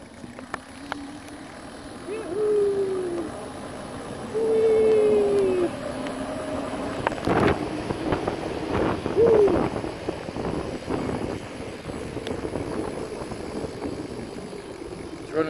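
An e-bike hub motor with a home-made field-oriented controller accelerating on a road, a faint whine rising in short pitch sweeps over rushing wind and road noise.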